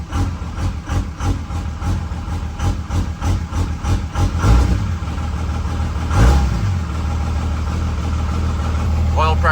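A second-generation vehicle engine, just restarted after work, rumbles at a steady idle with rhythmic pulsing, loud and close, with a brief rev and people talking nearby.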